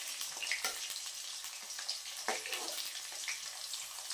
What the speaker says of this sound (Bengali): ভেজে নিচ্ছি, আমি ফ্লেমটাকে কমিয়ে দিয়েছি।